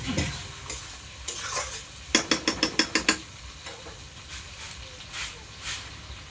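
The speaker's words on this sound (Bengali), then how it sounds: "তো এখন আমি মাছের তেলটা দিয়ে দিলাম।" Pangas fish fat frying in a pan, a soft sizzle under a rapid burst of spatula scrapes and clacks against the metal, followed by a few scattered stirring knocks.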